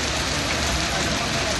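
Hailstones falling on cars during a storm in Riyadh give a dense, continuous roar of rapid impacts, loud and close, with no voices.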